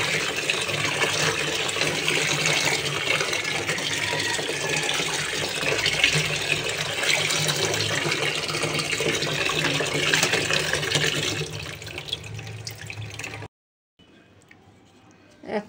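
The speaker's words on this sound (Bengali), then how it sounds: "শাকগুলো ধুয়ে পরিষ্কার করে নিব সুন্দর করে" Tap water runs steadily and loudly while leafy greens are washed in it, then the flow stops abruptly near the end, leaving faint background sounds.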